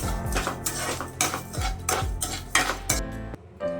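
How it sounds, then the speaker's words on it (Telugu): A metal spoon scrapes and clinks around a pan as sugar is stirred into fried vermicelli for semiya halwa, with quick repeated strokes, close and loud, and a brief pause near the end. "పంచదార వేసుకొని కలబెట్టుకుందాం."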